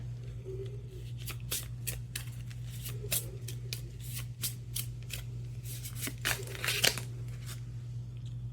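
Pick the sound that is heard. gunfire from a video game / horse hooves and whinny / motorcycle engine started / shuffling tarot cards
shuffling tarot cards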